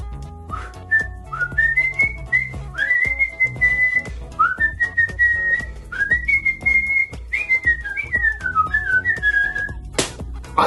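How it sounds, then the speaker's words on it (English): A person whistles a wavering, bright melody of sustained and sliding notes, close and fairly loud over faint background knocks and noise, ending with a sharp thump. "I can whistle."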